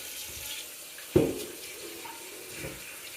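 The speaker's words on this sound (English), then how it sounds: "So now we'll start adding some cold water." Cold tap water runs into a pot for homemade laundry soap, a soft steady trickle with a sudden splash as the stream hits, then continued quiet flow.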